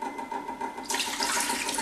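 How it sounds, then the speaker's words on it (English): Fresh water poured into pots holding clove-spiced food for a Christmas dish, a steady splashing stream that grows brighter and fuller halfway through, close and alone. "So I'm just going to pour fresh water on both of these."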